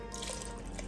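Water pours from a measuring cup into a soup pot, a steady close splashing and trickling that fills the short moment without speech.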